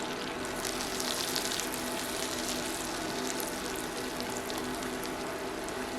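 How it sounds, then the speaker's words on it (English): Six tablespoons of butter melt in a pot, giving a soft, steady sizzle and crackle close by, with no talking. "Right now there's 6 tablespoons of butter in there, and we're going to get that melted"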